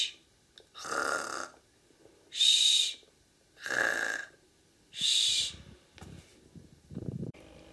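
A voice imitates a clown's snoring as a rhythmic German CH sound: four loud, breathy rasping snores alternate in an even beat, followed by a quieter snorting exhale, close to the microphone with no other talking.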